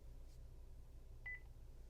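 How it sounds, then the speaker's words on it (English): A single short electronic beep from an Encore FF345 alarm panel sounds faintly over a low steady hum, otherwise quiet. "The panel beeps."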